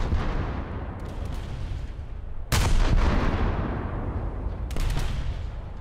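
Heavy naval guns in a warship video game boom against an enemy ship, with three sharp loud blasts over a constant dense roar of engine and sea noise, and no talking.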